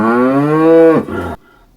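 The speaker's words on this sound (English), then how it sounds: "cow makes this sound." A cow lets out one long, loud, close moo, a rich drawn-out low call that bends down at the end and stops abruptly, with nothing else around it.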